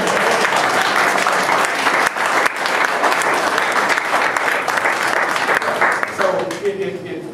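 An audience at a Juneteenth exhibit talk breaks into sustained, loud applause, dense clapping close by that continues throughout and then tapers off near the end, with some voices mixed in.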